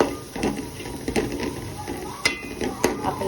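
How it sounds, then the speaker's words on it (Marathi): A spoon stirring turmeric and red chili masala into Maharashtrian pitla in a hot pan, with soft scrapes and a few sharp clinks against the metal over a faint sizzle. "आता हळद आणि लाल मसाला मिक्स नीट करून घ्यायचा आहे."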